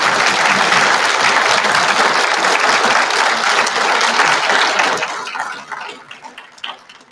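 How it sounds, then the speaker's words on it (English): Warm applause from a conference audience after a senator's speech, loud dense clapping that holds steady for about five seconds and then thins out and fades. "Did you hear that warm applause?"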